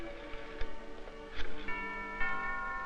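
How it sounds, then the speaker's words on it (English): A doorbell chime in a 1950s home interior, several ringing tones sounding over about three seconds, moderately faint against a quiet background with no talk. "Oh, that's probably Tom right now. Saved by the bell, thank goodness"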